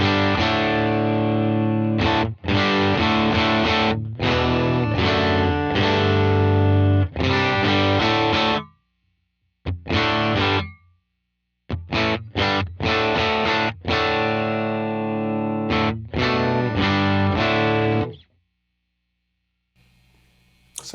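Distorted electric guitar riffs through a UAFX Dream 65 amp pedal with the DTEX mod adding mids, loud chords and phrases with a few short pauses, playing alone.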